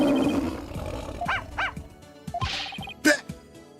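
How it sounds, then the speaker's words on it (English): A dog barks in Phoenix Wright: Ace Attorney Spirit of Justice, giving several sharp, close barks and yips in a quick, irregular series, mixed with game sounds. "But this is my dog, Shadow."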